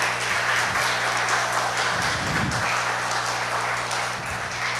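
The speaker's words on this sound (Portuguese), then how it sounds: "Vamos aplaudir ao Senhor Jesus." Church congregation clapping for Jesus during a Portuguese-language sermon, a steady wash of applause filling the room at even loudness throughout, with a low hum and a few deeper thumps underneath.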